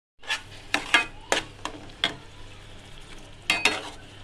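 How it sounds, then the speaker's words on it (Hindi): Tomato and beetroot puree for pav bhaji cooks in a pan, with soft sizzling under repeated sharp scrapes and stirring clacks of a spoon against the pan, close and fairly quiet, no talk. "इसे अच्छी तरीके से हम पका लेंगे।"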